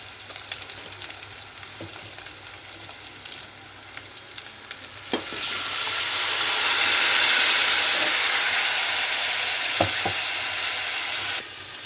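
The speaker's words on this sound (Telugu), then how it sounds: "పప్పు ఇందులో వేసేస్తా పోపులో" Loud sizzling and crackling of urad dal lentils hitting hot tempering oil, swelling into a steady fry after a few clinks and scrapes of a pan.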